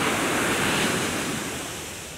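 Ocean waves break and wash steadily onto a beach on Niijima island under a high summer sun, a loud, continuous broadband surf roar that fades slightly toward the end, with no voices.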